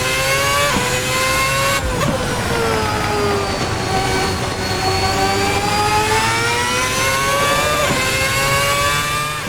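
A 2010 V8 Formula 1 car screams at high revs in a sim racing game, a loud, continuous engine wail rising and falling through gear changes with brief shift dips, heard alone without talk.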